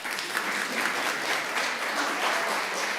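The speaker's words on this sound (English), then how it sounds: "give yourselves a round of applause" An audience at a community summit gives sustained applause, a dense, even wash of clapping from many hands, steady and fairly distant for the whole stretch.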